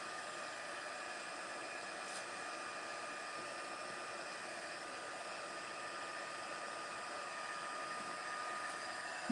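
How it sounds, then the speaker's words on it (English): A heat tool blows hot air over freshly painted craft pieces, a steady, even rushing whoosh that holds at a constant level throughout with no voices. "get my heat tool out"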